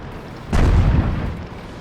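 A single tank cannon shot in World of Tanks, a deep booming blast that strikes suddenly and rumbles away over about a second.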